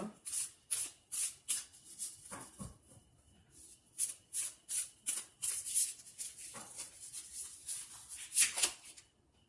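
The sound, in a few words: tarot cards being shuffled and drawn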